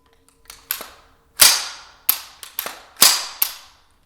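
A magazine of gunshots fired at a TAC-1 tactical vest in a torture test, sharp loud reports in an uneven series of about seven shots, close with brief ringing decay.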